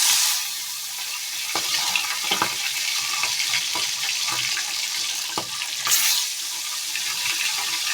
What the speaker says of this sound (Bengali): তো আমি তেলের মধ্যে মাছগুলো দিয়ে দিচ্ছি।